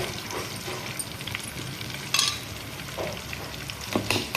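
Cumin seeds and curry leaves fry in hot oil for a gongura and green chilli chutney tempering, giving a steady close sizzle with a few sharper crackles and pops.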